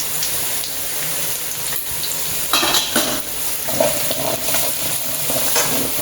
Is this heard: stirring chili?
yes